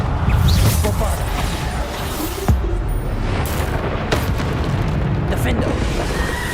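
Bombarda blasting spell in the Hogwarts Legacy video game, a deep booming explosion with rumbling low-end eruption and debris bursts, loud and sustained amid game combat noise.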